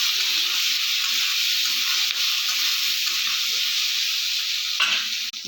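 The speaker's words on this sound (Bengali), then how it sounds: "হলুদ দিয়ে দিলাম, খানিকটা লবণ দিয়ে দিলাম, দিয়ে বেশ কিছুক্ষণ নাড়াচাড়া করে নেব।" Turmeric and salt fry in a hot pan while being stirred, giving a loud, continuous sizzle with soft scraping strokes of the spoon and a sharp clack near the end.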